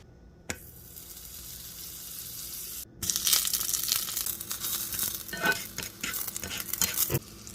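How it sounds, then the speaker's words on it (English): Greens with garlic sautéing in a pan: a brief clatter, then hissing sizzle mixed with scraping stirring strokes, close and fairly loud, without talk. "let's wash this and saute it with some garlic"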